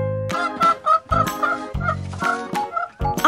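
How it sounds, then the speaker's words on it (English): A hen clucks in a rhythmic series of short, bright calls, fairly close and loud, with brief pauses between bursts and a musical backing underneath. "H is for hen."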